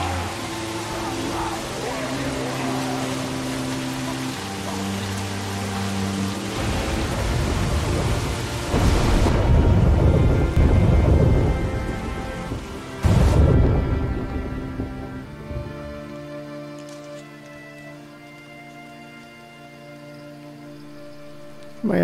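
Heavy rain and rumbling thunder in The Walking Dead video game, a steady wash of downpour with two sharp thunder cracks partway through, set over low sustained game music tones.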